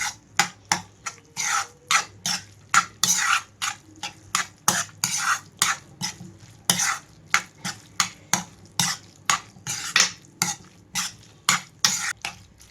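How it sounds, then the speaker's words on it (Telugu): Cauliflower pachadi being mixed with coriander in a bowl, a brisk, steady run of close scraping and clacking spoon strokes repeating several times per second throughout, loud and with no voices. "కొంచెం కొత్తిమీర కూడా వేసేసి కలిపేస్తున్నాను"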